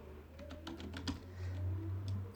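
A command is typed on a computer keyboard to compile a C file with clang, heard as a quick run of soft, close key clicks in a quiet room with no speech.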